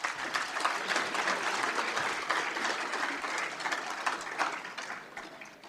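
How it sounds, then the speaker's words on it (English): An audience at a career and technical education awards ceremony claps in a sustained, fairly even round of applause that thins slightly toward the end. "Let's give them a round of applause."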